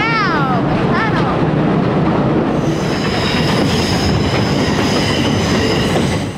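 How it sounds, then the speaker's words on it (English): Steam train of the Western Maryland Scenic Railroad rumbling through Brush Tunnel under Piney Mountain, its wheels squealing and rolling loudly in a dense, continuous roar, with voices faintly present. "riding a steam train for the first time."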